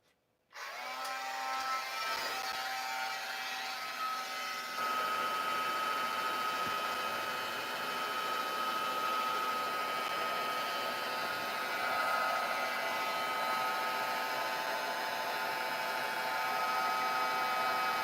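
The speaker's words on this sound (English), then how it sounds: "let me plug in my heat gun" After a brief silence, a heat gun switches on for squeegee paint pull work and keeps up a loud, steady whooshing whine of blowing air, close by and without any talk.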